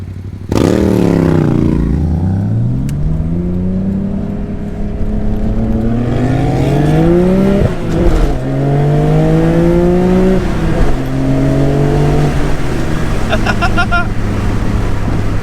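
Cars accelerating hard side by side in a street race, engines roaring loud and close as they rev up through several gear changes with rising and falling pitch, a faint clatter near the end.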